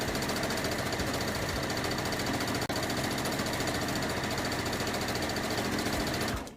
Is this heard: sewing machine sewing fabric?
yes